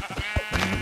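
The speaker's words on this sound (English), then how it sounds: "It's a flock of sheep." Sheep in the video game Minecraft give a short, nasal bleat, one clear call close up and alone.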